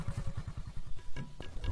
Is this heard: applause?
no